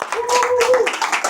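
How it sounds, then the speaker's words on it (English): Brief burst of clapping from a community workshop audience, a few irregular hand claps mixed with a speaking voice. "give yourselves a round of applause"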